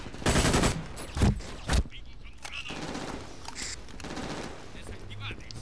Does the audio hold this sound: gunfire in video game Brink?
yes